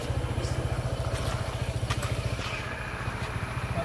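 A motorcycle engine chugs steadily at close range with a rapid, even pulsing beat as it rides along a narrow gravel path, running continuously with no speech.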